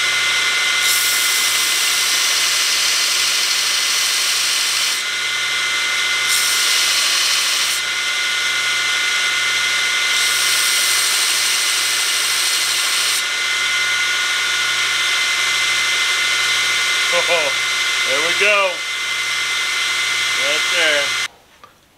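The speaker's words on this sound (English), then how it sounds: "so I'm gonna use the sander." An electric sander grinding steel on a USGI M7 bayonet whines loudly and steadily, its pitch shifting as the blade is pressed and lifted, with several brief breaks before it spins down at the end.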